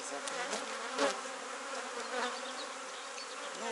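Honeybees hum steadily over a hive frame, a dense close buzz of many insects, with a few brief louder swells as individual bees pass near.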